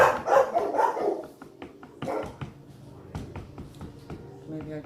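Dogs in a home bark in a quick volley of several close, loud barks, then scattered fainter yips and barks follow over quiet room noise.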